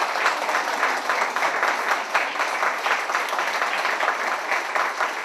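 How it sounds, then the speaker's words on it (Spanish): Steady applause from a concert audience, dense continuous clapping that holds at an even level for several seconds. "Fuertes aplausos y cariñosos"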